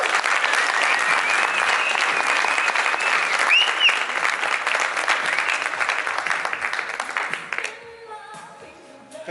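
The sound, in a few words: applause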